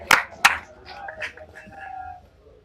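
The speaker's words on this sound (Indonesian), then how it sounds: "Tepuk tangan sekali lagi untuk kami" Audience applause at an anniversary event, a couple of sharp claps followed by brief scattered clapping that fades quickly, with voices murmuring underneath.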